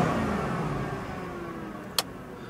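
Mercedes C63 AMG with the exhaust in comfort mode and the valves shut gives a subdued, steady low engine hum with no revving, and a single short click near the end.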